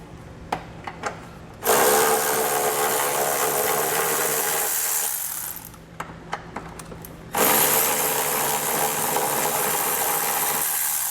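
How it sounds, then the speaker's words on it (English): Buzzing bursts from a tool with an 18mm socket backing out exhaust hanger bolts on the frame of a 2019 Ford Flex, two sustained runs separated by a pause, close and loud. "we're going to take an 18mm socket and remove these 2 bolts here"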